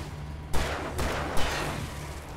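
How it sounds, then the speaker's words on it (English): A flashbang grenade goes off in the video game Alan Wake Remastered, with two sharp loud bursts about a second apart that each trail off into a broad hissing wash over a low hum. "Everybody gets a, not a Molotov. What the hell is it called? Flashbang."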